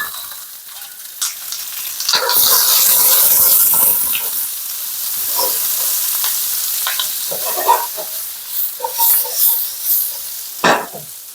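Onions hit hot, smoking oil in a pan and sizzle loudly, then settle into a steady frying hiss broken by stirring scrapes and bursts of spitting.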